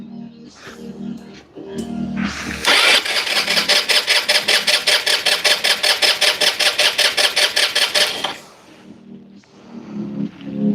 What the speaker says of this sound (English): All right, I'm gonna start up. I got it wide open throttle.